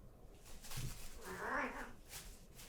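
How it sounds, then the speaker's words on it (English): Cats make noise indoors: a faint, drawn-out meow-like cry rises briefly over quiet room background. "The cats are so distracting."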